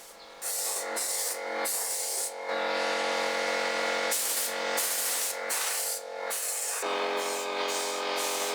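Aerosol can spraying hammered black paint onto a saw handle in short bursts and longer continuous hisses, close and loud, with no talking.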